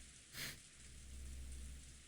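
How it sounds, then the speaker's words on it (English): Steady rain in the video game Umineko: Twilight of the Golden Witch, a soft, continuous hiss of rainfall with a brief brighter swell near the start, faint and without voices. "Yes, it must be the sound of rain."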